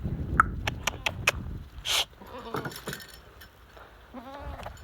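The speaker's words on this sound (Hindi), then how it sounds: "ये बकरी हमारे ऊपर बैठ गई।" Goats bleat in short repeated cries while climbing and crowding on top of people in a farm setting, the calls fairly close and mixed with rustling and background noise.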